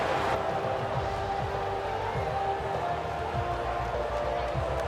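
Steady crowd cheering at an F1 24 race in Ferrari driver career mode, a dense continuous roar held at an even level from start to finish, with car engine drone running underneath.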